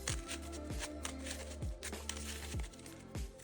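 Cards are shuffled several times in quick succession, a crisp riffling and snapping close by, repeating roughly every second.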